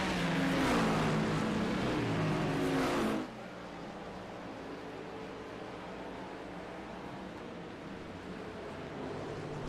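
Race cars at the 2024 Long Beach Grand Prix street race roar loudly for about three seconds, then drop to a quieter, more distant engine drone that lingers to the end.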